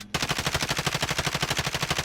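Rapid automatic gunfire rattles in a steady, even burst of about twenty shots, loud and close, starting abruptly after a brief silence during a car-chase shootout.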